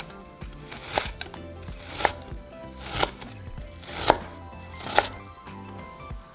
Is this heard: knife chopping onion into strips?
yes